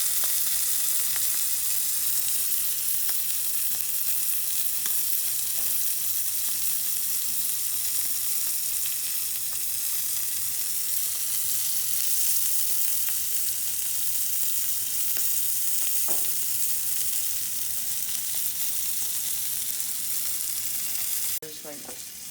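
Bacon and steak frying on a grill, a steady loud hiss and crackle of fat sizzling that runs on without a break, with occasional small pops.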